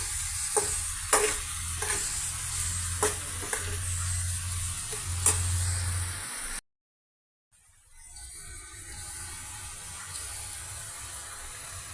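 Ridge gourd pieces fry with onions in a pan, a close hiss broken by repeated spoon clanks and scrapes of stirring, then a short silence and a quieter continued sizzle.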